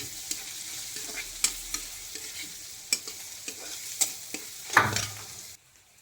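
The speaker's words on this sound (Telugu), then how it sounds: "ఉల్లిపాయలు గోల్డెన్ కలర్ వచ్చే వరకు వేపుకుంటూనే ఉండాలి, కలుపుకుంటూ ఉండాలి" Onions fry in a pan for a tomato, drumstick and egg curry, a continuous sizzle broken by regular scraping knocks of a spoon stirring, ending abruptly in near silence.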